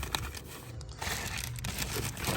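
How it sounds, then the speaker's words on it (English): A plastic bag crinkles and rustles in the trunk of a 1985 Mercedes 500SEL Euro-spec sedan, close and handled in irregular bursts of crackling with no speech. "Plastic bag there."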